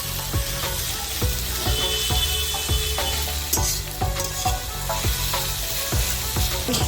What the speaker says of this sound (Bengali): পেঁয়াজটা লাল লাল করে ভেজে নেব, যাতে পেঁয়াজের জলটা শুকিয়ে যাবে